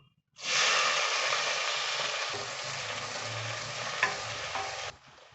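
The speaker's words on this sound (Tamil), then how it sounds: "இது கூட ஒரே ஒரு பெரிய வெங்காயத்தை நல்லா மெலிசாக கட் பண்ணி வச்சுருக்கேன். இதை சேர்த்துக்கலாம்." Thinly sliced large onion hitting hot oil with bay leaf and spices, bursting into a loud, sustained sizzle that holds steady before cutting off abruptly.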